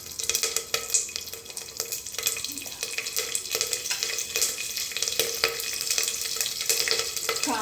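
Cumin, mustard seeds and curry leaves spluttering in hot oil for a Maharashtrian vatana batata bhat, a dense continuous crackle and sizzle with sharp popping bursts and occasional stirring scrapes, close up, no talking.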